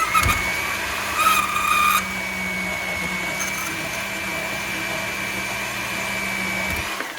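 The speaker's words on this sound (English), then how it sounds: "We're gonna cut 1 inch off of it, or so." A power tool whines steadily while cutting about an inch off a metal rod, a continuous high-pitched grinding hum with a louder burst near the start and the noise cutting off at the end.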